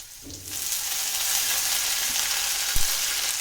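Mutton chops fry with six or seven green chillies in a pan, giving a continuous close sizzle with a dull knock from the pan near the end.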